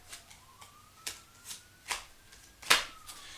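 Tarot cards riffled and snapped in a series of short crisp bursts, the last one loudest, with a faint tone drifting underneath in an otherwise quiet room.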